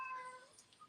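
A cat gives one short, quiet meow indoors, a brief rising-and-falling cry with nothing else around it.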